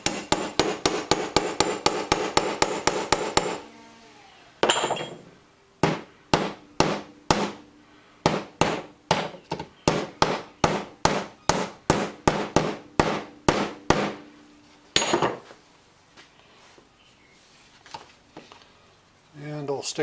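Repeated sharp hammer blows drive a steel chisel into a split, landing in a fast run of close, loud metallic strikes, then slower evenly spaced blows, with a few scattered knocks and brief pauses between.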